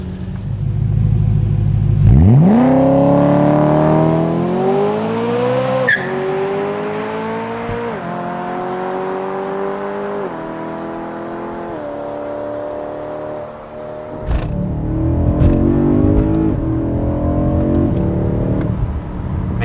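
A naturally aspirated V8 engine in a BMW E90 M3 with DCT gearbox roars and revs up through climbing pitches, shifting gears repeatedly, loud and close, then settles and rises again.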